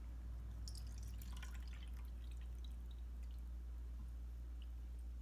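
Cold water poured and sprinkled into pie crust dough in a bowl: faint trickling drips and small splashes over a steady low hum, with no talking.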